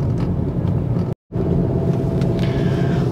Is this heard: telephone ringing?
no